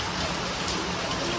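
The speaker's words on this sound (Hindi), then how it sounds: "बहुत ही ज़ोरदार बारिश हो रही है" Heavy rain pours at a roadside tea and snack stop on the road from Dehradun to Mussoorie, a dense, steady hiss of drops with no voices.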